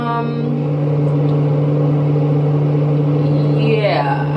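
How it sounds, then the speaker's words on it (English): A loud ceiling fan running together with its light gives off a steady, droning hum with a strong low tone. It carries on unchanged for a few seconds and fills the room. "the fan goes on as well, and it's really loud"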